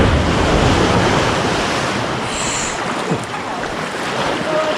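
Sea waves wash against a kayak on open coastal water, a steady broadband rush with wind noise across the microphone and occasional splashes, loud and close throughout.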